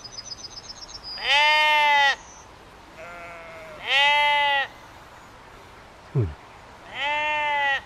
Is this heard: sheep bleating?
yes